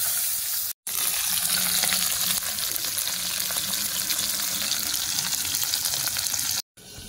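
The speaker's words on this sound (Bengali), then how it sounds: "কড়াটা খুব গরম করে নিয়ে আস্তে দিচ্ছি যাতে না ফাটে মাছটা" Pabda fish frying in a very hot wok: a loud, close, continuous sizzle with a dense spattering hiss that cuts off briefly at the start and again at the end.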